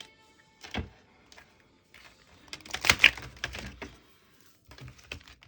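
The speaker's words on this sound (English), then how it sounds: "I'm going to shuffle the tarot cards" Tarot cards being shuffled by hand during a pick-a-card love reading, giving scattered soft riffling and tapping bursts, close and fairly quiet, with a denser flurry in the middle and gaps of near silence.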